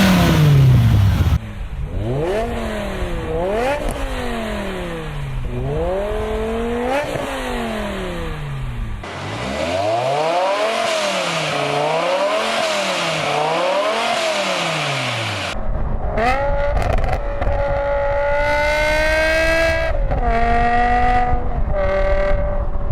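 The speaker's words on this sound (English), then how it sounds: "At low RPMs you get a satisfying burble, and at high revs it screams like an F1 car." A BMW E60 M5 with its 5-liter V10 and six-speed manual revs repeatedly, rising and falling in sharp sweeps, then climbs through gears with a high-pitched, screaming wail at high rpm, loud and close.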